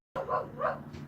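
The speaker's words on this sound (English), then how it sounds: "Now my dog's going crazy." A dog barks two or three quick, loud, close yips in a short burst outdoors.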